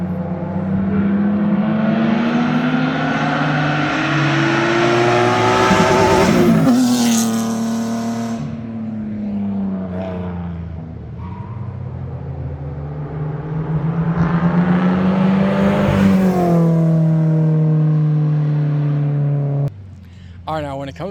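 Several cars race past at speed on the Tail of the Dragon mountain road, engines rising and falling in pitch as each one approaches and fades, loud and close throughout.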